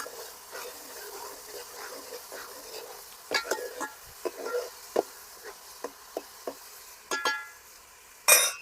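Fish curry masala with turmeric and ginger-garlic paste sizzling softly in a pan. A faint, steady crackle carries occasional sharper spoon taps and scrapes against the pan, with no voices.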